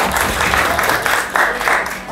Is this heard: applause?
yes